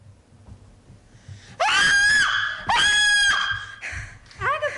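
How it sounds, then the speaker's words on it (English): A woman screams on waking in a radio drama: two long, anguished cries in a row, loud and close, followed by shorter gasping cries. "you are screaming!"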